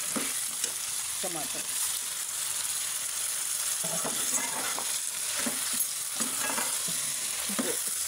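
Chicken biryani base frying and being stirred in a pan, a steady broadband sizzle with intermittent scraping stirs; one brief spoken word rises over it near the start.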